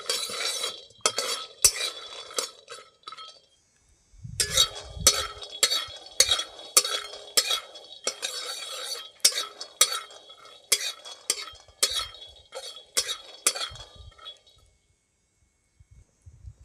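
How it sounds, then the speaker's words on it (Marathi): Peanuts are dry-roasted in a pan and stirred, giving close, loud, rhythmic scraping and rattling strokes with a short pause early on, then fading to a few scattered scrapes at the end. "आता आपण हे शेंगदाणे चांगले भाजून घेऊ"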